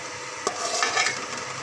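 Spices, tomato, garlic-ginger paste and onion sizzle in hot oil for chana pulao while a spoon stirs through them, a steady close frying hiss with a sharp scrape of the utensil partway through.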